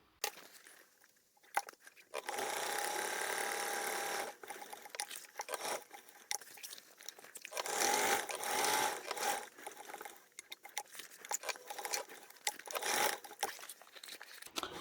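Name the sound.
sewing machine sewing around a bag exterior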